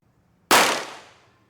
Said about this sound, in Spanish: saca del bolso un revólver y dispara por la espalda